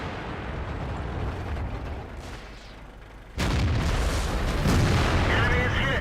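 An IS-3 heavy tank's main gun in World of Tanks fires once, a sudden loud boom midway that jumps out of the steady rumbling battle ambience and rolls on as a sustained roar.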